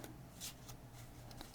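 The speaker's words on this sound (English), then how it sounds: "So we square the deck up, come in, and shuffle." Playing cards riffled in an overhand shuffle, a soft papery rustle repeating in quick bursts of cards pulled from a squared deck, close and fairly faint with no talking.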